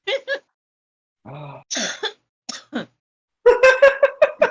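A person livestreaming a Code Lyoko episode replay coughs in a series of short, dry bursts, first a few sporadic coughs, then a rapid cluster of harsh, close coughs near the end.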